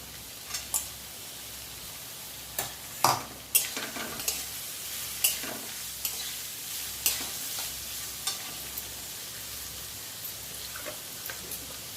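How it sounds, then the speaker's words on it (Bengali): Carrots fry over a lowered flame as they are stirred in a pan, a faint steady sizzle punctuated by sharp spatula clacks and scrapes against the metal. "তো আঁচ কমিয়ে কমিয়ে এভাবে গাজরটা ভেজে নেব।"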